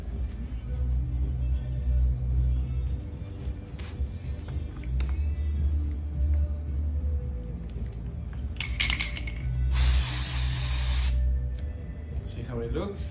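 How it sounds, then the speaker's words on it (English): Gold spray paint hisses through a stencil in two short bursts, a quick spurt followed by a longer, steady spray of a second or so, over a low background rumble. "she's going to add some spray paint, stencil. With some gold spray paint."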